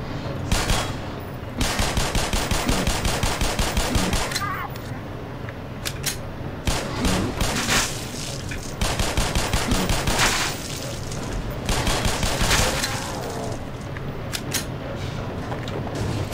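Rapid automatic gunfire from the video game Black Mesa, long sustained bursts broken by short pauses, loud and close, with scattered single shots between the volleys.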